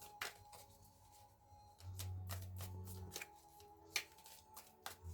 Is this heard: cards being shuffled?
yes